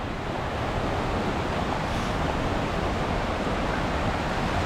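Water from one of the larger waterfalls along the Multnomah Falls trail pours in a dense, unbroken rushing roar, steady and fairly loud, with no voices.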